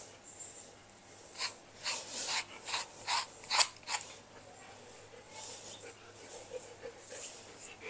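A brush rakes through a golden retriever's fur in short, scratchy strokes, a quick run of close, soft rasps that pause and resume faintly.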